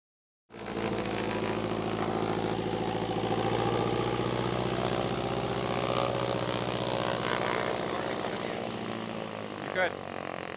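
An 80-year-old propeller airplane comes in to land with a constant loud droning engine, steady and near throughout, and a faint voice and a brief thump near the end.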